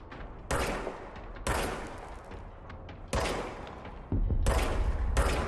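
Bursts of gunfire in the action video game Control, several loud broadband volleys of shots separated by short pauses, with the longest sustained burst near the end.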